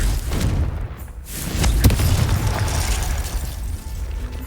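Hogwarts Legacy's Confringo blasting spell detonates with a heavy, booming explosion, a sharp crack near the middle followed by a sustained low rumble fading out over a few seconds.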